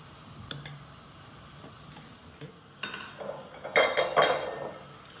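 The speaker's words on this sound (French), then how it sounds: "On va les mettre maintenant dans l'eau bouillante." Fresh, thick handmade noodles are dropped into a pot of boiling water, giving scattered clinks and knocks against the pot, with a louder cluster of splashy clatter near the end.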